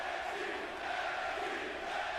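A video game wrestling arena crowd in WWE 2K18 roars in a steady, distant wash of chanting voices, continuous and unbroken throughout.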